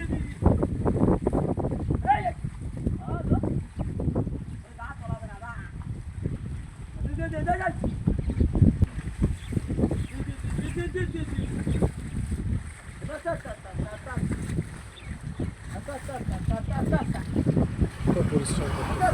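Cold wind gusts across an open field where cows pull a plough, rumbling and buffeting the microphone steadily while voices talk intermittently through it.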